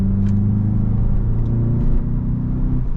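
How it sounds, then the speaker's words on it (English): A 2025 Volkswagen Jetta GLI with a six-speed manual accelerates, its engine a steady loud droning rumble throughout, close and continuous with no talking. "the vehicle gets up to speed with the 228, 258 as far as the power numbers go"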